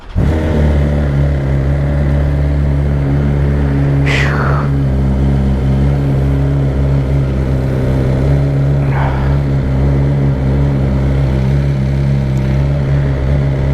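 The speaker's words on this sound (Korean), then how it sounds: "또 오랜만에 바이크 좀 타볼까?" A motorcycle engine running steadily and loud while riding, a constant low drone with a couple of brief higher swishes passing over it.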